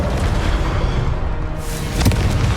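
Confringo fire spell exploding in Hogwarts Legacy, a loud rumbling blast with a deep roar that fades slightly before a second sharp burst near the end.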